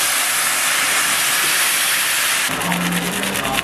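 Canned diced tomatoes hit a hot pan and sizzle, a loud broadband hiss that holds steady and then changes texture with some clatter near the end.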